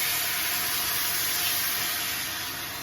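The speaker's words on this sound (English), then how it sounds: "That's the sizzle you're looking for." Chicken broth sizzling in a hot pan while making wild mushroom risotto, a steady, dense hiss that holds without pause, close up with no voices.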